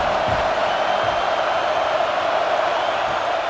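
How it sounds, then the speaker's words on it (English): A steady, loud roar from a football stadium crowd at a college game between Northwest Ohio and Buffalo, holding constant without breaks. "This crowd bringing the energy and noise early."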